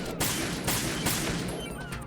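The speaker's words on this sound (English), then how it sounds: "just in case, we'll shoot him in the head some more" Loud, rapid gunfire from the video game Metal Gear Solid 2 fills the whole stretch, with several close bursts of shots in quick succession.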